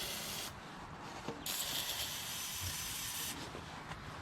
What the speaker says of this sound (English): Got some liquid wrench here that I need to use up. I'm just gonna spray this in the hole,